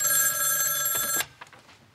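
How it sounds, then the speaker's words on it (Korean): An indoor telephone bell rings loudly and continuously for about a second, then cuts off abruptly, leaving a few faint room noises behind. "전화 왔는데요."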